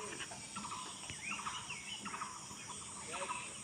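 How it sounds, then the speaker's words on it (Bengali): Small birds chirp faintly in a rooftop fruit garden on a rainy morning, a scatter of quick high twitters over a soft, steady background wash. "পাখিদের কিচিমিচি, মৃদু বাতাস"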